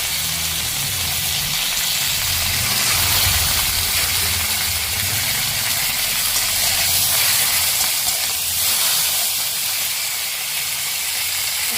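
Curry leaves dropped into hot oil in a home kitchen pan, a continuous bright sizzling hiss that stays steady and fairly loud throughout, with no talking.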